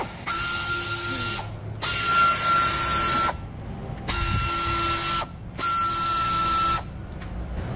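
A pneumatic impact tool loosens the bolts of a steel skid plate on a Toyota Hilux, firing three loud, close bursts of rattling buzz of roughly one to one and a half seconds each, separated by brief pauses.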